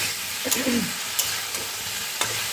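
Okra frying in a pan, a steady sizzle with occasional stirring scrapes, close up with no talking.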